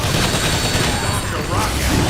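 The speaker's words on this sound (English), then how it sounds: "Grenade away!" Grenade explosion in Transformers: War for Cybertron, a dense, loud roar of blast noise and debris that fills the whole moment with steady intensity.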